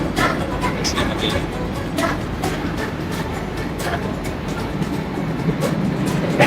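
A Mumbai AC local train at Churchgate station gives off a steady, loud rumble and rattle of carriages and wheels, with broadband noise throughout and faint voices mixed in.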